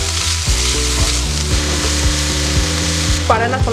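Spices for a prawn masala curry sauté and sizzle in a pan, with steady frying hiss and occasional stirring scrapes, all beneath background music.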